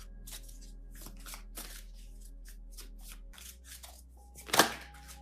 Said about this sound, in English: I'm just going to shuffle until it feels right